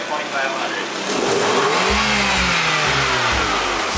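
A car engine running on nacho cheese in place of oil revs up toward 2,500 rpm, a loud, rough mid-pitched roar rising from near silence and holding steady, with fluttering, uneven pulses under a faint voice.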